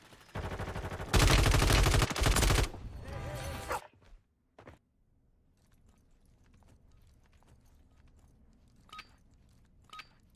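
Call of Duty Warzone gunfire as another team shoots at a player: a loud rapid burst of shots over a few seconds, then quiet stretches with a couple of sharp single cracks and faint distant pops.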